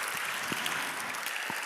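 Congregation applauding during an Icelandic church service, a steady patter of many hands clapping at moderate volume, with a few sharper individual claps standing out.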